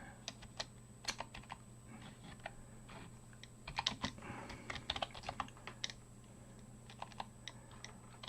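Soft, irregular typing on a computer keyboard, quick clusters of key clicks over a faint steady hum, fairly quiet and close.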